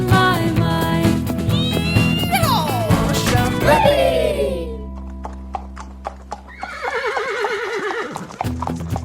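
Horses neigh loudly with long shrill whinnies over a steady clip-clop of hooves, the hoofbeats continuing alone before another wavering whinny rises near the end.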